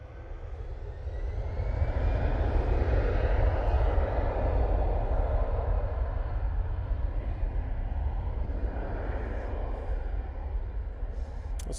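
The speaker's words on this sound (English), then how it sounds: "there is a Virgin 330 that is pushing it back." A Virgin Airbus A330 pushing back at Manchester Airport gives off a steady, continuous jet engine rumble with a deep low-end drone, holding at an even level throughout with no voices.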